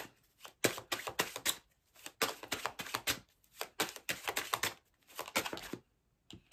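A tarot deck is handled to draw a card, giving quick bursts of papery riffling and card flicks in close, rhythmic clusters with short pauses between them.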